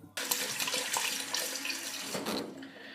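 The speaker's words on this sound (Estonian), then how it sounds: "Esmalt tuleb nad siis ära pesta." Kitchen tap water running into a sink while potatoes are washed, a steady close splashing stream that starts abruptly and continues throughout.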